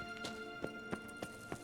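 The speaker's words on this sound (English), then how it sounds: "Hey, look, there's the horse." Horse hooves clip-clopping in The Witcher 3: Wild Hunt, a quiet, even run of four or five hoof strikes at a walking pace, slightly distant, with no talking.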